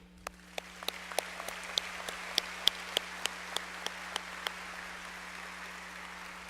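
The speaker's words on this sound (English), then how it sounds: "Please join me in applauding their high academic achievement." Sparse, scattered claps from a small number of people at a high school graduation ceremony, distinct individual hand slaps spaced irregularly over a low electrical hum, growing slightly then thinning out.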